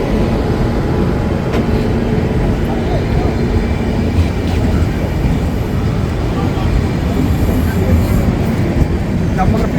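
A passenger train at a small station gives off a steady, loud, broadband rumble that holds evenly for the whole stretch without any clear start or stop.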